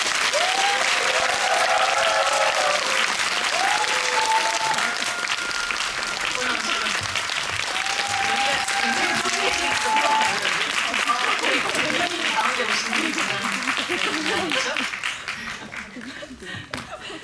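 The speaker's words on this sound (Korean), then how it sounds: "큰 박수 부탁드립니다." An audience at a post-screening film talk applauds to welcome the director and actress, sustained crowd clapping with scattered chuckles and a voice over it, fading out near the end.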